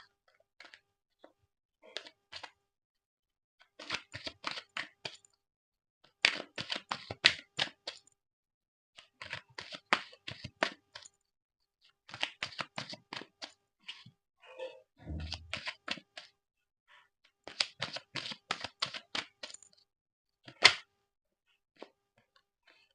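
Tarot cards are pulled from a deck in repeated short clusters of crisp slides, flicks and taps, close and quiet against near silence, with one soft thump partway through.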